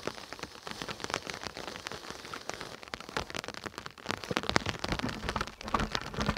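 Rain falls steadily on a mountain house during a storm, a close patter of dense drops tapping and splashing on surfaces, with sharper individual hits throughout and no talk.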